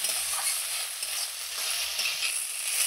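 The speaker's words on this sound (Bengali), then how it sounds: "আমি পেঁয়াজ কলিটা যে তেলে দিলাম" Boiled onion stalks fry in hot oil in a home kitchen, giving a steady, close hiss of sizzling with faint stirring scrapes throughout, no voices.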